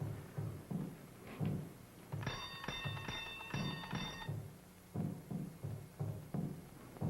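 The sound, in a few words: door bell being rung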